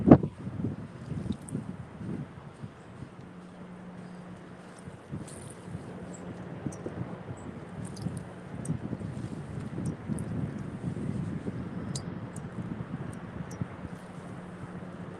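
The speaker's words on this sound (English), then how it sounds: "This wind blowing so bad" Strong wind gusts in the woods beside a catfishing spot, a low rumbling buffeting over the microphone that swells and eases unevenly, with faint ticks and clicks in the background and no talking.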